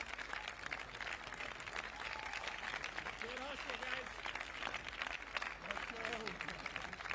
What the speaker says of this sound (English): Great applause from the fans.